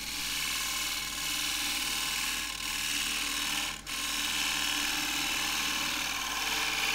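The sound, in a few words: spindle gouge turning a wooden hollow form on lathe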